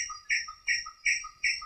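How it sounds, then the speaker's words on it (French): Black honeyeater morning song in the forest of Rivière Bleue park, New Caledonia: repeated clear, bright chirped notes in a steady rhythm, four or five phrases, fairly faint and distant with no talking. "C'est le méliphage noir."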